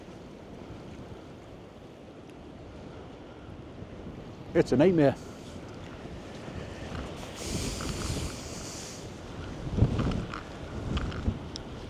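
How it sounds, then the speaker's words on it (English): Gusty wind buffets the microphone over crashing surf during rough-ground cod fishing at a club match, rising and falling in strong rushes, while a person speaks briefly partway through. "Can you see just how windy it is?"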